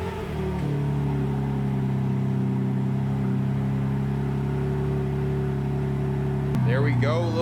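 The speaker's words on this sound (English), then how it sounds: "Let's get a cold start on the M3." A BMW G80 M3 cold start settles into a loud, steady, droning idle with a humming tone. Near the end the engine note briefly shifts and swells.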